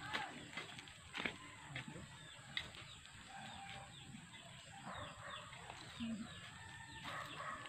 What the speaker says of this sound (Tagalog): May alagang manok para may itlog.